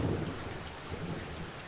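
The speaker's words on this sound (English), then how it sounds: "It's raining outside. It's really beautiful, but it's also scaring me. Because I don't like storms" Steady rain with a thunderstorm rumbling low underneath, heard indoors under a blanket; the downpour hisses evenly throughout while a deep thunder roll is strongest at the start and fades, with no talking.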